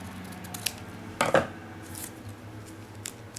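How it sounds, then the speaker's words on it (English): Scissors trim excess origami paper, giving a single short, close snip near the middle of a quiet moment, with a few faint clicks around it. "You're going to have to go ahead and cut that off."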